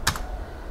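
A quick pair of keystrokes on a computer keyboard while typing in Microsoft Word, close and crisp, then quiet.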